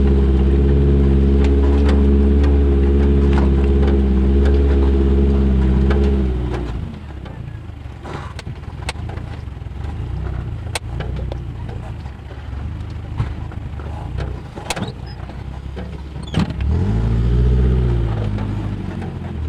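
A car bumps along a rough dirt road in Colorado's Arapaho National Forest, with a steady engine drone, then rattling, jolting knocks and scattered thumps from the uneven track before the engine swells again near the end.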